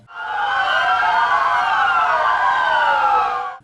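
Sirens wail together during a memorial moment of silence on the anniversary of the Düzce earthquake, several overlapping tones rising and falling in a loud, steady chorus that holds for the full stretch before cutting off.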